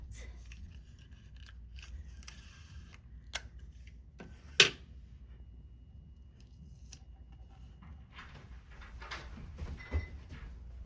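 Sharp tearing and snapping of tape strips while decorative paper masks are assembled, several distinct rips and clicks spaced irregularly against a quiet room, followed by softer rustling handling.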